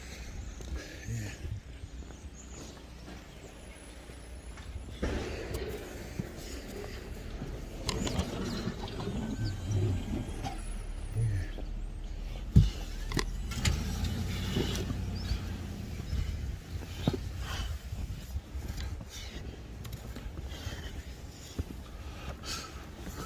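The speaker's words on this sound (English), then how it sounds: "those guys across the street running the plow truck" A snow plow truck works across the street, clearing the road and a yard, giving a steady low mechanical rumble with scraping and clanking bursts at moderate distance and no talking.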